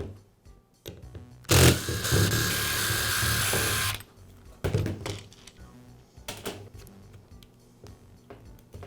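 The rear housing comes off a Milwaukee hammer drill during a cord repair, heard as close clicks and scrapes of plastic parts with one loud sustained whirring burst partway through.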